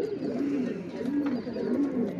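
Pigeons kept for sale near a house coo steadily at close range, with soft rolling calls repeating about every half second and no talking over them.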